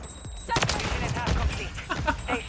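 A Lockwood 680 shotgun fires in Call of Duty, with close, loud blasts in quick succession amid other gunfire and game clatter while a voice talks over it.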